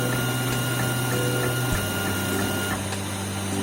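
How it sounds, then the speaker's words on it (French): A Geeetech A20 3D printer runs with a steady mechanical whir and hum, its stepper motors shifting pitch partway through, close and continuous with no voices. "l'imprimante vient de s'arrêter"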